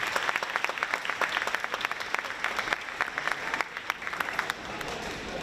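Applause for volleyball teams, coaches and volunteers fills a school gym after a girls volleyball match, steady dense clapping from a crowd with scattered sharp claps standing out, moderately loud throughout.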